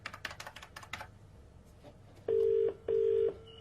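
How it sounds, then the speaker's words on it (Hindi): A telephone being dialed: a quick run of key clicks, then two loud, steady dialing tones back to back, with no one talking. "फोन मिलाओ।"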